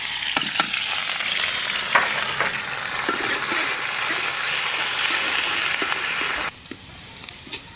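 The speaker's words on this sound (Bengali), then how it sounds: "এখন হচ্ছে পেঁয়াজ দারচিনি আর তেজপাতা দিয়ে দেবো" Onion, cinnamon and bay leaf sizzle and crackle in hot oil for an atar dal, a loud steady frying hiss with occasional stirring clinks, close up, then the sizzle suddenly drops quieter near the end.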